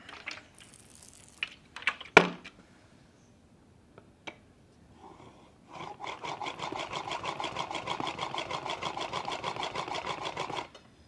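A No. 8 jointer plane blade honed on an 8000 grit sharpening stone, with a few scattered knocks and scrapes followed by a long run of steady, rhythmic back-and-forth rubbing strokes, close and alone.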